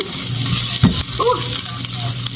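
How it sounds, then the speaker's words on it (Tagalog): Garlic sizzles in a hot pan as dinner of ground meat with vegetables cooks, a steady bright frying hiss with a brief stir or thump partway through. "So, isunod ko itong bawang"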